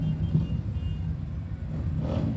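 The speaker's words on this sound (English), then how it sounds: "You can hear them revving." Motorcycles rev at an outdoor Christmas parade at night, a steady deep engine rumble holding throughout with a slight rise near the end.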